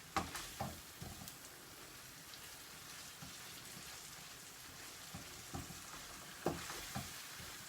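Minced meat browning in a pan while cooking karnıyarık, a steady crackling sizzle with a few sharper pops and stirring scrapes, continuous and close with no talking.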